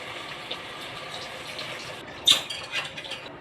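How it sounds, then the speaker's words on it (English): Boiled water poured into a cooking pot while making chicken tinola, a quiet background hum broken by a short gushing splash with a few trailing splashes. "Next, put some boiled water."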